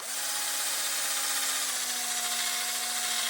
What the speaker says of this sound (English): Even a little wire brush on a drill